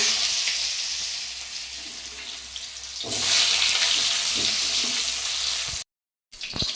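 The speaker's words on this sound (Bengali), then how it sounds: "তেলটা গরম হয়ে গেছে এবারে আলুগুলো আমি লাল লাল করে ভেজে নেবো" Potato pieces fry in hot oil in a pan just used for frying fish, giving a steady hiss that swells louder partway through and cuts out briefly near the end.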